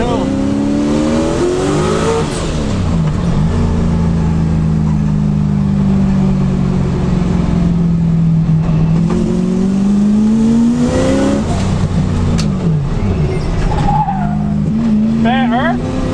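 Nissan 200SX fitted with a turbocharged 1UZ V8 pulling hard in second gear, a loud continuous engine note climbing steadily in pitch with brief dips, heard from inside the car with short voice bits near the end.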